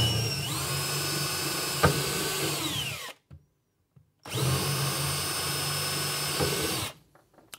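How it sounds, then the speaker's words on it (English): A 5mm bit drills back through a wooden centre muntin of a wall unit frame in two sustained, loud bursts of whining power-drill noise, each around three seconds, separated by a short pause, with no talking. "I'm now going to drill back through with a 5mm drill to make the hole big enough to take the screw."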